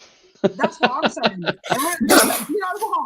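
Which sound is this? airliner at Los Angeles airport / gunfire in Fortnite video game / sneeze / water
sneeze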